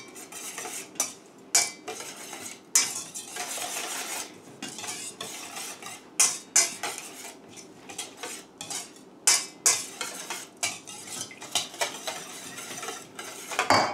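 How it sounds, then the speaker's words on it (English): A vegan mixture whisked in a bowl, with a utensil clinking and scraping against the sides in quick, uneven bursts of rattling strokes, close and fairly loud, with no talking. "Then you're going to whisk it up some more."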